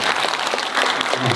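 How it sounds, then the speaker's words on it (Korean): Audience applause at a peace and life forum in Jirisan, dense and steady for the whole moment and filling the hall as a guest sculptor is welcomed to the stage. "큰 박수 부탁드립니다."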